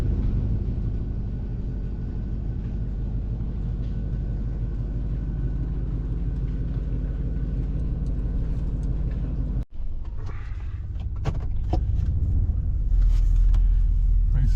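A Chevrolet 1500 pickup's 350 V8 idles as a steady, loud low rumble, with a brief dropout partway before the engine note resumes with sharper bursts of revving.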